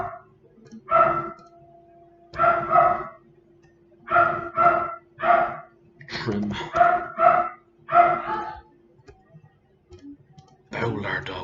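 A dog barks repeatedly in separate clipped bursts, some doubled, near and fairly loud indoors during an AutoCAD tutorial, with a voice briefly heard too.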